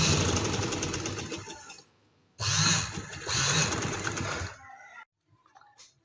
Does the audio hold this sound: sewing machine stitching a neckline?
yes